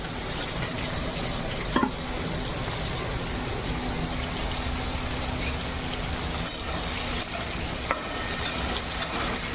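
Water runs continuously while mushrooms are washed for a mushroom curry, a steady even wash of noise with a few faint clicks and knocks.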